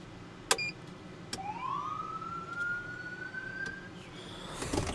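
A 2026 Ford F350 brush truck siren winds up in a single rising wail that holds and then cuts off, moderately loud, bracketed by a few sharp clicks and a burst of noise at the end, with no talking.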